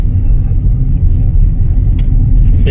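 Road traffic rumbles close by on a dug-up, one-way stretch of road, a loud, continuous low engine drone from passing vehicles with a few faint higher clatters and no voices.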